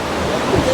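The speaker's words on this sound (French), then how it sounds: "la houle se déchaîne sur le littoral" Ocean swell breaking along the shore at Mbao near Dakar, a steady broadband wash of surf and churning water that holds evenly loud throughout, with no voices over it.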